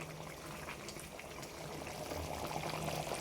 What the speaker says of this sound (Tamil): ஒரு அரை கிளாஸ் தண்ணி சேர்த்து இப்போ அது கொதிச்சுக்கிட்டுருக்கு